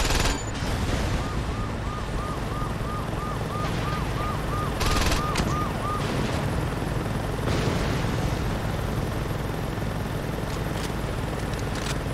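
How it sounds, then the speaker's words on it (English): Helicopter in the video game Saints Row 2 chops steadily while bursts of gunfire crackle, loud and continuous over a dense game soundscape, with a repeated electronic beeping in the middle. "I don't have time to get rid of the helicopter, so it's gonna be firing at me too"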